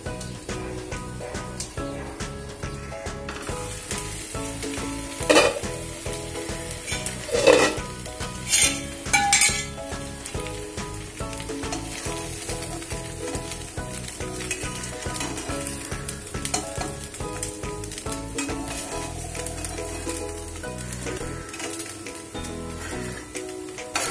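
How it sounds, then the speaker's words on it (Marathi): Rice flour ghavan, a thin Konkani-style pancake, sizzles steadily in a pan while it is sautéed, with occasional clinks and scrapes of a metal utensil against the pan over the constant frying hiss. "दोन मिनिटं झाकण ठेवूया, आपण परतून घेऊ।"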